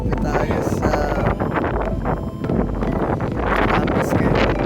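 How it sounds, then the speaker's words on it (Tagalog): Strong wind at a beach in Kantil, Bauan, Batangas, buffeting the microphone with loud, continuous roaring gusts and rumbling throughout, with brief dips before surging again, close and dominant, with muffled voices faintly underneath. "Napakalakas ng hangin."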